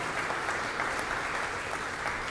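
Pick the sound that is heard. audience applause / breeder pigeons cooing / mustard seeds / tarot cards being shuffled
audience applause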